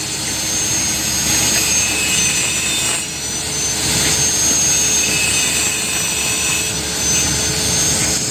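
Loud, continuous noise of a machine cutting PVC pipe, a harsh high whine with a grinding roar underneath, holding steady for several seconds with slight dips.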